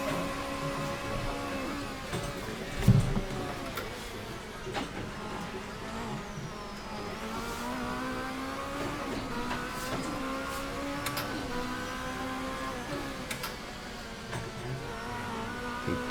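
A race car engine drones steadily through a lap of a sim racing game on the Zandvoort circuit, its pitch rising and falling with gear changes and throttle, with one brief thump near the start and no talk.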